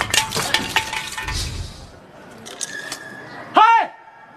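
A mobile phone shatters, a cluster of sharp cracking and clinking impacts at the start, close and loud, with people talking and a short exclamation following.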